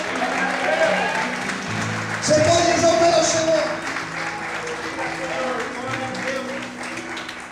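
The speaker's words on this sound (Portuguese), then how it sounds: "Mais forte as palmas para Deus." A church congregation claps and applauds during a worship service, a steady dense wash of clapping running under loud sermon speech and background music throughout.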